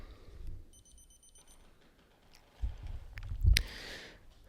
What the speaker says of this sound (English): Oh, that's my other alarm.